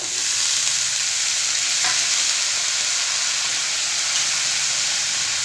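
Carrots are stirred into spices frying in a pan, producing a dense, continuous sizzle. A few soft scrapes of the spoon come through, and no voices are heard.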